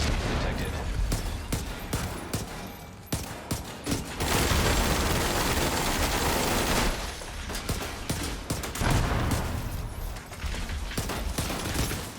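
Dense automatic gunfire in The Division 2 during a boss fight, long sustained bursts and overlapping volleys with brief pauses, loud and close, with faint game effects underneath.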